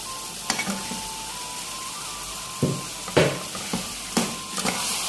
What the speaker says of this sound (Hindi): अब मैं इसमें डालती हूँ आलू